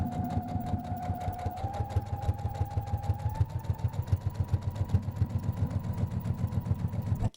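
A sewing machine runs steadily for about seven seconds, stitching red fabric along marked lines with a fast, even mechanical chatter and a rising motor whine.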